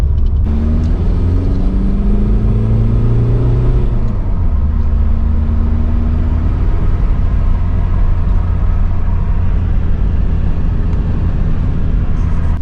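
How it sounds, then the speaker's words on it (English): Volkswagen Golf MK4 Variant 1.9 TDI (AXR) turbo diesel engine with its EGR valve deleted, heard from inside the car as a steady, loud low rumble with rising rev tones in the first few seconds before settling into a constant drone. "But turbo sounds cool."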